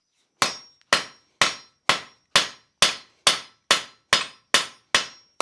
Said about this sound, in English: a cutoff hardy, a chisel that is used pointing upwards, and it sits in the square hole in the anvil